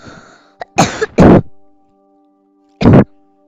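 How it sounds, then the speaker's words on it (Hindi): A man coughs and clears his throat during a Craftsman building game session: a brief cough, then two harsh, close throat-clearing bursts, a pause, and one more loud cough. "माफ करना है, थोड़ी खांसी हो गई है।"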